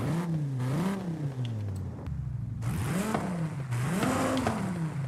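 A V10 car in Forza Horizon 5, fitted with a race exhaust, revs repeatedly, its engine note climbing and falling in loud, close swells with a brief drop to idle between pulls.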